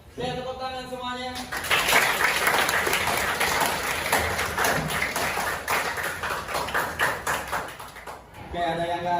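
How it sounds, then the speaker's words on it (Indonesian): Classroom of students applauding together: a sudden burst of brisk, dense clapping that runs for several seconds and then stops, with tonal sounds before and after it. "Oke, tepuk tangan semuanya."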